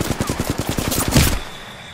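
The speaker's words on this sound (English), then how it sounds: "Listen up, I'm getting shot at." A rapid burst of automatic gunfire in a video game, about a dozen evenly spaced shots fired close and loud, ending in a heavier hit before fading out.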